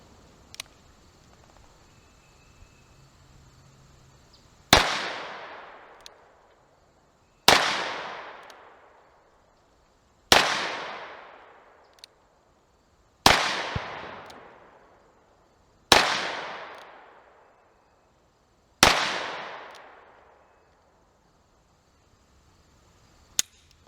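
A Ruger Blackhawk revolver with a 6-inch barrel fires .357 Magnum rounds: six sharp, loud shots spaced a few seconds apart, each trailing off in a long, booming echo.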